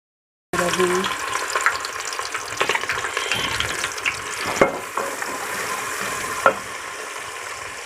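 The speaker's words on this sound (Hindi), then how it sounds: "तो अब मैं मसाला भून लेती हूँ।" Masala spice paste frying in a pan, starting abruptly with a loud, steady sizzle, close up, with scraping stirs and a few clattering knocks as it is stirred.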